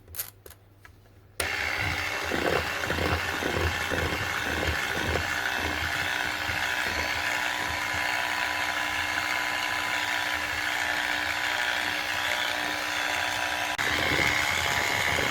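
An electric stand mixer runs continuously at steady speed, working flour into cookie dough. It starts abruptly after a brief quiet moment, then keeps a loud, even motor whine with faint rhythmic beating.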